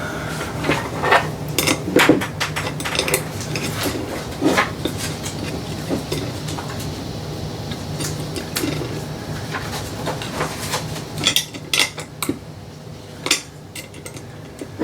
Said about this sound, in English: Let me tighten these down.